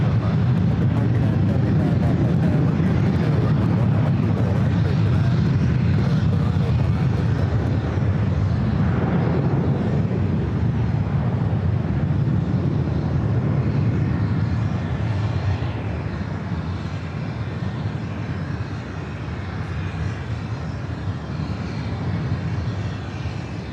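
A jet airliner takes off on runway 24 Left at LAX, producing a powerful, sustained engine roar with heavy low rumble that swells early and then slowly fades as it rolls away into the distance.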